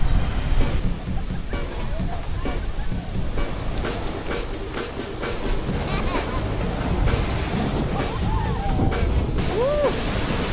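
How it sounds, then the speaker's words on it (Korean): Ocean surf at a beach in Nha Trang, Vietnam, at sunset: a steady broad roar of breaking waves with strong wind buffeting the microphone and faint voices of people playing in the water. "파도가 장난 아니네?"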